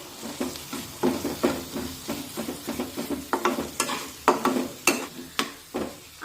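Cooked masala stirred in oil that has separated, heard as rhythmic scraping strokes of a spoon over a soft sizzle, each stroke a short close burst repeating about twice a second.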